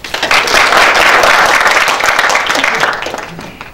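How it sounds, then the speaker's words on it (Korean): Applause from a university audience at a student election debate, loud dense clapping that starts abruptly, holds steady, then fades, with faint voices mixed in near the end. "큰 박수를 부탁드립니다."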